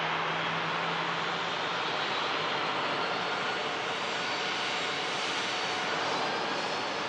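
A Ryanair jet airliner arriving from Rome roars in a broad, steady rush of engine noise, loud and sustained throughout with no voices.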